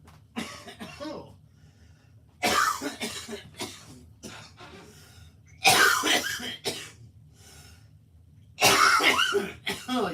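Several harsh, close coughs and throat clearing come in bursts separated by quiet pauses.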